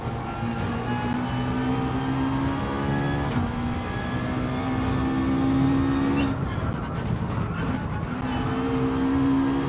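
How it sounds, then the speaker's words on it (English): A McLaren 650S GT4 race car in Gran Turismo 7 drones at high revs, with sustained engine tones broken by gear shifts and brief lifts of the throttle, loud and continuous throughout. "This is the McLaren 650S GT4 or Group 4."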